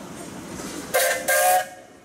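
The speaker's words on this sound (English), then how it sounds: "Gentlemen, you have a whistle." Steam whistle on a Gaar Scott traction engine at a pioneer engineers' parade gives two short, loud, bright blasts, the second slightly longer, over a low outdoor rumble.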